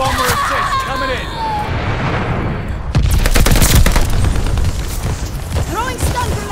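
Explosions and gunfire from bomber airstrikes in the Call of Duty Vanguard Domination mode, a dense, continuous barrage of booms and rapid shots that swells louder midway, with game voice callouts over the top.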